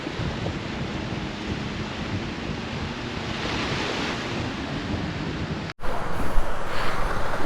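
Ocean waves wash along a two-kilometre seaside road at Bang Pu, Samut Prakan, as a broad, continuous roar mixed with wind buffeting the microphone, briefly cutting out before resuming louder.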